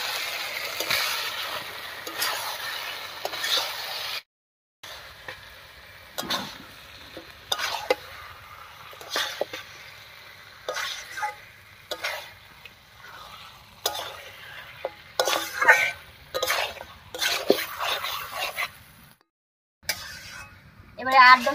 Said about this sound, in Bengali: এবার মশলার সঙ্গে খুব ভালো করে মিশিয়ে নেব।